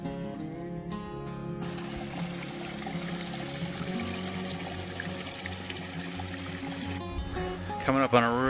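Water pours steadily over a large beaver dam on an Adirondack river, a continuous rushing wash mixed with a droning tonal hum, and a voice can be heard over it.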